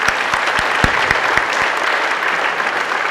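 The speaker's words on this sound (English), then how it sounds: "I just want to kind of clap it out for my kids because they do a lot here" Applause for student athletes at a school athletic awards ceremony, a dense, steady wash of clapping from the audience that holds evenly throughout, with a few sharper claps standing out near the start.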